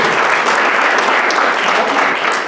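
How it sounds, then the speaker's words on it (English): Applause at a Rotary club meeting, a loud, dense, continuous roar of many hands clapping close by, holding steady throughout. "Round of applause for President Ken having the pins this week."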